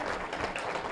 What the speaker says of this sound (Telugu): కెనడా మాస్టర్స్ కూడా గట్టిగా చప్పట్లు కొడదాం